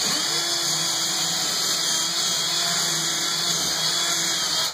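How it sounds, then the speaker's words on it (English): A power drill boring a hole for a drawer slide hook, a steady continuous whine held close and loud for the whole stretch with no talking. "We'll drill the hole for the hook."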